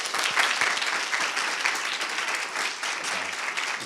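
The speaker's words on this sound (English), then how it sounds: "another round of applause for our speakers" Sustained audience applause at a TEDx university event, a dense steady patter of many hands clapping throughout, with faint murmurs underneath and no clear talk.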